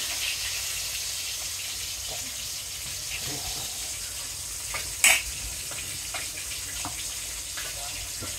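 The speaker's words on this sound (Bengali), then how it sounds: "এখানে মাছ বাজি করে দিতেছে উনি" Fish frying in a pan at a busy Bengali kitchen spot, a steady broadband sizzle running throughout with faint clinks and one sharp clatter midway.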